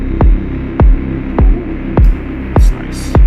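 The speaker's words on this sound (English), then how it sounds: "This kind of static wind kind of thing." Synthesized electronic texture from a deep techno tutorial: a steady low throbbing hum broken by six evenly spaced deep kick-like thumps, with bursts of hissy, static-like wind noise gating in toward the end, loud and without voices.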